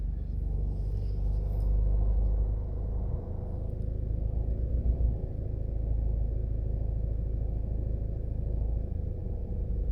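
Heavy traffic along Wellington Drive in Liguanea, Jamaica: a steady, close low rumble of passing cars and engines that swells and eases without a break for the whole stretch, with no talk.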